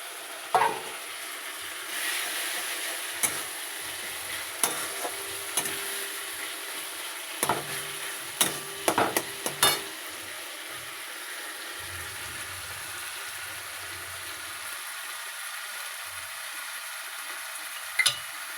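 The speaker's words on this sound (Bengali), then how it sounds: "এখন আমি এই টমেটো কুচিটা দেবো।" Chopped tomato lands in a pan of frying spices and sizzles steadily, punctuated by repeated sharp scrapes and knocks of a spoon stirring, close up with no talking.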